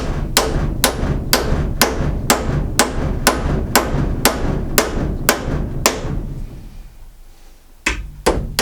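Hammer knocking big thick nails into deck timber through a counter punch, a steady run of about a dozen sharp, loud strikes at an even pace, then a brief pause before two more blows.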